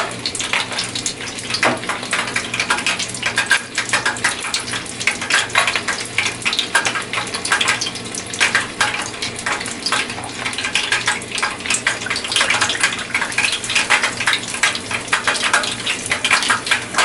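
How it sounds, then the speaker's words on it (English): Chimichangas deep frying in hot oil, a dense, steady crackle and sizzle of bubbling oil that runs loud and continuous throughout, with no talking. "It's probably deep frying some of the stuff on the inside as well"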